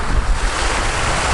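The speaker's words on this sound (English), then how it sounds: "There are these water spouts." Water spouts splash steadily into a snow-covered pond beside a pagoda in Xi'an, China, on a snowy day: a loud, continuous broadband rush of falling water mixed with wind noise, with no pauses.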